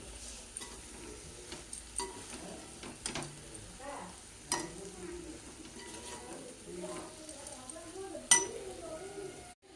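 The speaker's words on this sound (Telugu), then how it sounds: "బాగా కలుపుకోవాలండి దానికి కొబ్బరికాయ వేసుకుని." Coconut fry being stirred in a pan on the stove, with scraping and sizzling, light clinks of a utensil against the pan, and one sharper clink near the end, fairly close.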